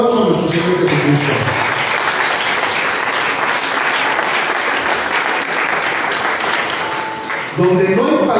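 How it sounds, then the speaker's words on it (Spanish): A church congregation gives strong, sustained applause, loud and even for several seconds, with brief spoken voice at the start and end. "Denle un fuerte aplauso a nuestro Señor Jesucristo."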